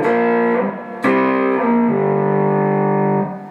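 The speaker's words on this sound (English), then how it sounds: "So when you play it up to speed, it sounds like this." Electric guitar with heavy distortion plays a riff at full speed, close and loud, with sustained ringing chords, a sharp picked attack midway and slides between notes.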